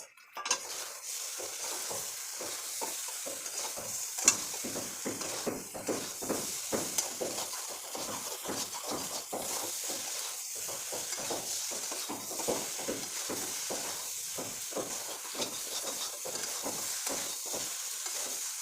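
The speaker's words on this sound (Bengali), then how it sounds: "তো দেখো ভাজা হয়ে গেছে আর মশলার সঙ্গে সবজিটাও খুব ভালো মিশে গেছে।" Vegetables fry with spices in a pan while being stirred, soft steady sizzling broken by regular scraping strokes and light clinks of utensil against pan, fairly quiet and close, with no talking.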